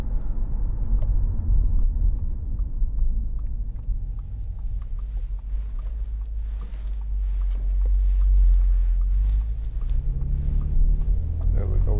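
A 2011 Audi S4 Avant 3.0 TFSI V6 engine hums and rises as it accelerates, a steady low rumble close by with a brief voice over it.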